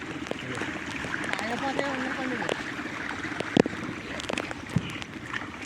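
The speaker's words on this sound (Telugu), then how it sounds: "వస్తున్నాయి నీళ్ళు." Water gushes and trickles out of a pond motor pump during rain, a continuous flowing wash with occasional splashes and knocks, while people talk nearby.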